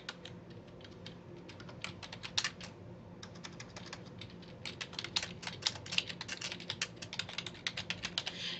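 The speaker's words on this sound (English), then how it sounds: "And then I can start typing within my document." Typing on a computer keyboard while writing in a Google Docs document: quick, irregular key clicks close by, sparse at first then building into faster bursts, with no voices.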